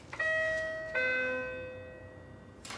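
Two-tone doorbell chime rings indoors in an apartment, a bright ding-dong with ringing harmonics repeated once, then fading, with a brief third strike at the end; no one speaks.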